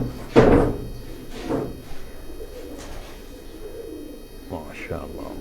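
Pigeons on a rooftop loft coo softly and intermittently, with a louder bump or flutter at the start, all under someone talking.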